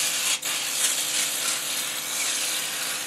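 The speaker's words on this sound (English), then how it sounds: "I'm going to get to spraying." Steady hissing spray from an aerosol can of oven cleaner on an air fryer toaster oven, held continuously with one brief break near the start, close and fairly loud.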